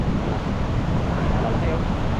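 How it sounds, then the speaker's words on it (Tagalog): Big sea waves churn in a steady, loud wash with rough wind rumble on the microphone, a continuous roar with no breaks and no clear voices. "Lalaki na pa rin ang alon mga kalibre oh."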